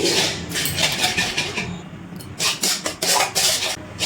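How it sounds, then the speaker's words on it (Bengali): Water and salt are stirred in a cooking pot for a palm fruit dudhpuli pitha. A utensil scrapes and clinks against the metal in quick, irregular strokes, close up, with no talking. "এবারে খুব ভালো করে নাড়াচাড়া করে একটু জাল দিয়ে নিচ্ছি।"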